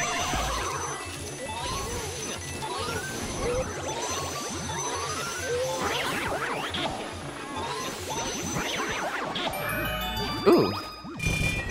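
Coins pile into Luigi's pocket in Luigi's Mansion, a long cascade of bright chiming dings that keeps tinkling for about ten seconds and ends with a louder crash.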